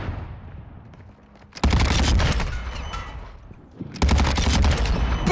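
Loud bursts of automatic gunfire in a shooter video game, two sustained volleys of rapid rattling shots with a quieter stretch of distant firing between them.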